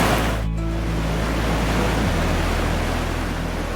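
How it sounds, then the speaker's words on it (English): The misty Sugga Bandh waterfall near Netarhat pours through deep forest, giving a constant broadband rush of falling water with a low rumble underneath. "This misty Sugga Bandh Waterfalls flows gently amidst deep forest, a soothing sight on our route to Netarhat."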